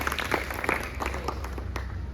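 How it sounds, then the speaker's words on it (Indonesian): Small group applauding friends, a brief patch of clapping with a few sharp individual claps over a roomy background hum, fairly close. "Tepuk tangan dulu untuk teman-teman."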